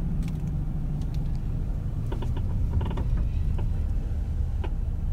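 An aging car on a road trip rumbles along with a low engine and road drone, while scattered creaks, squeaks and rattling clicks from the body come and go over the noise.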